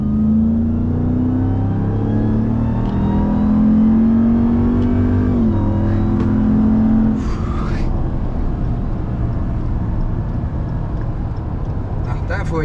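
Dodge RAM TRX pickup truck engine rising in pitch as it accelerates from inside the cab, a steady loud drone that later settles into rougher rumble, with people talking over it throughout.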